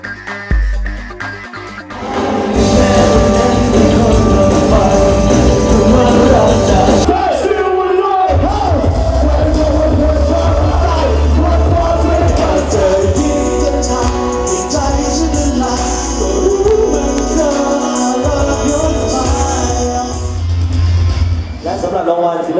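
A big crowd of fans at an awards show yells, whoops and cheers loudly and without a break, with voices and music-like tones mixed into the roar.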